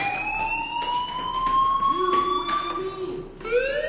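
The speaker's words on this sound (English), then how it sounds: "Hey, do you hear that fire alarm?" A fire alarm wails inside the video game Life is Strange, a piercing electronic tone that rises and falls in repeating sweeps, sounding steadily throughout and joined by a second, lower sweeping tone.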